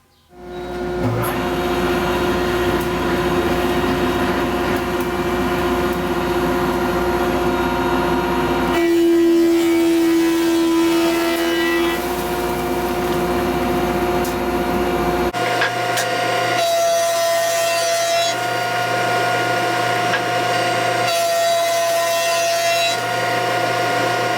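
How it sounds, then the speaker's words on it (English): A thickness planer feeds old wood against the grain, a loud steady machine roar with a high whine that shifts pitch as each board passes through, running alone without talk. "Going against the grain sometimes, especially with this old stuff. A lot of times the planer really rips it up."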